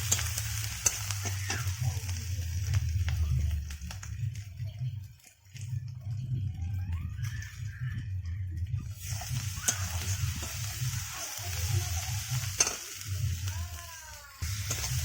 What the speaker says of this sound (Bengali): মশলা আমার ভালোভাবে কষা হয়ে গিয়েছে।